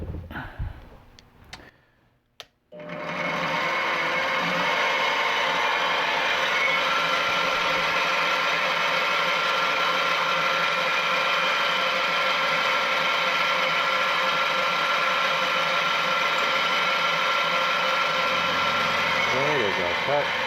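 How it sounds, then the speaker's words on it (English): A mini lathe cuts a metal spacer block for a tailstock DRO modification, giving a steady, fairly quiet mechanical whir with fine chatter that runs unbroken after a short pause at the start. "Okay, there's our cut."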